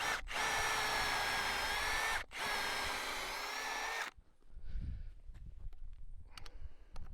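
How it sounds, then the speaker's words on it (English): A power drill drilling a pilot hole while installing a shock absorber whines loudly and steadily for about four seconds with a brief pause partway, then stops, leaving quiet clatter and handling noises. "better drill a hole, another pilot hole"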